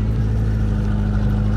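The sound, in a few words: vintage car engine running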